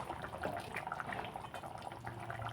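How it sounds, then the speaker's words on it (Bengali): Fish curry broth boiling in a covered pot, a faint continuous bubbling and gurgling with a low steady hum underneath, no voices. "ঝোল কিন্তু ফুটে গেছে"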